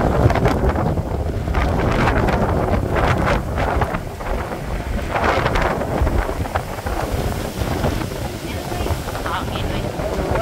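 Strong wind buffets the microphone with a continuous roaring rumble, gusting throughout, while voices are faintly heard underneath.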